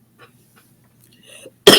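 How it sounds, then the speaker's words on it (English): A single loud, harsh cough bursts out near the end, close and sharp, after a stretch of quiet breathing and faint throat sounds. "Triggers coughing fit."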